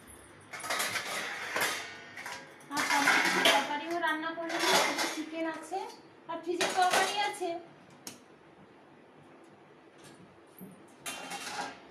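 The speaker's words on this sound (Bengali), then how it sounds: "থালা নিয়ে আসি" Plates and dishes being handled at home, ceramic clinks and scraping clatter in close, uneven bursts while someone talks over them.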